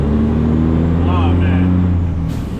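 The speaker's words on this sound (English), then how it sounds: "Truck sound good." A truck engine idles steadily at close range, a low continuous rumble with a faint hiss from air leaks in the background, holding constant throughout.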